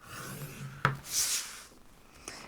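Double-sided Centura Pearl 300 GSM cardstock being scored with firm pressure: a sharp tap followed by a short, close rasping scrape, then quiet rubbing and a faint later click.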